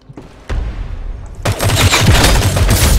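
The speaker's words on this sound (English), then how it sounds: "This guy's just wasting his whole clip on us with the sniper" Sniper rifle fire in the Ghost in the Shell shooter game, a cluster of loud gunshot blasts and booms piling into dense continuous gunfire.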